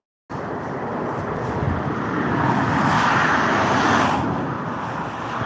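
Steady traffic roar on the Kyiv-Odesa highway near kilometre 27, a broad continuous rumble of passing vehicles that swells slightly midway before easing, fairly close and with no talk.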